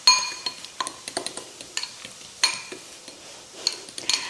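A fork whisks Greek yogurt dressing in a bowl, giving a run of quick light clinks and scrapes against the bowl in an uneven rhythm, close and fairly clear, with no talking.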